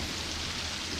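Steady, dense rain falls in the Lego Fortnite game world, a constant loud hiss with no breaks and no voices over it.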